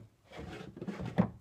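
A wooden drawer slides in and out of a piece of furniture with soft, close rubbing scrapes, ending in a sharper knock as it closes, quiet and without talk.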